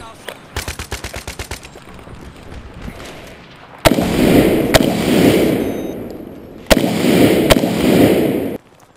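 A G3A3 battle rifle fires in Battlefield 3: first a quick burst of rapid shots, then several loud, booming single reports with echoing tails, spaced a second or two apart.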